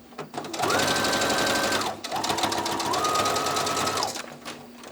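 A sewing machine stitches a bat plush in two close, loud runs of rapid whirring with pitch rising and falling as speed changes, separated by a short pause.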